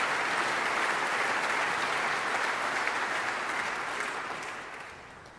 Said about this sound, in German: Ja, vielen Dank für den Applaus